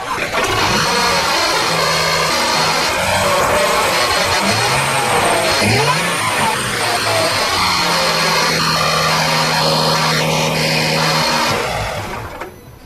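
A Jaguar engine after throttle body and pedal position sensor codes are cleared, starting and settling into a steady, smooth idle with a continuous hum and whir that fades at the end.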